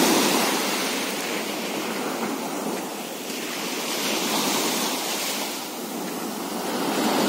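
Surf on Marari beach in Mararikulam, Kerala, rolls in steadily as a broad, continuous wash of breaking waves with soft swells in loudness, some wind noise, and no voices.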